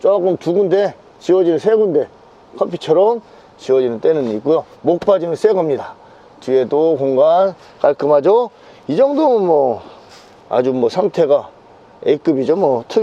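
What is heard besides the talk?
No everyday noise stands out behind the speech.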